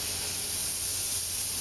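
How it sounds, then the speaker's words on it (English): Gravity feed spray gun spraying paint on a rat rod: a steady, close, loud airy hiss that runs unbroken through the whole moment. "That gravity feed spray gun"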